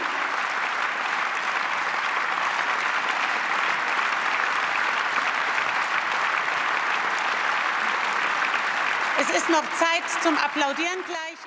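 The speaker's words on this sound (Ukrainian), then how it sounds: "За мить буде час для оплесків" Sustained, loud applause from a large crowd filling a parliament chamber, steady throughout, with a voice starting to speak near the end.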